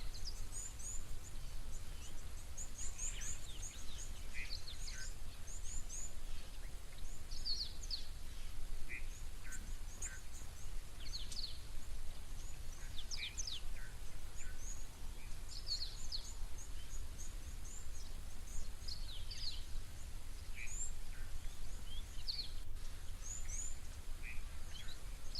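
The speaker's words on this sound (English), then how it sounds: "Lots of little birds here." Many small birds call at a waterhole, with high chirps and twitters scattered throughout over a steady low outdoor rumble, no voices heard.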